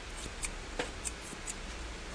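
Scissors snipping close by in quiet surroundings, giving four or five short crisp metallic clicks spaced unevenly across two seconds, with no one talking.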